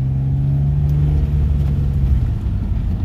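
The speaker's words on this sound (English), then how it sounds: "Does have a little bit more of that VQ grumble" A Nissan Altima V6 with catalytic converter deleted rumbles steadily at low pitch, with a deep throaty exhaust drone and a faint raspy hiss from a flex pipe exhaust leak running through it.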